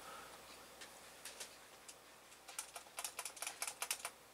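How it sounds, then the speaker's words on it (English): A computer keyboard is tapped with a run of quick, light, close keystrokes. They are sparse at first, then speed into a steady patter of repeated backspace presses, with no voices over them. "I'm hitting backspace"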